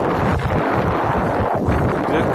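Strong, cold wind buffets the microphone continuously, a rough, roaring gust with no pauses.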